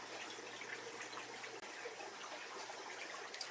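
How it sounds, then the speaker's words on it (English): Water is siphoned during a turtle tank clean, a faint, steady liquid rush and trickle that carries on evenly with no voices. "I'll go through and siphon some more"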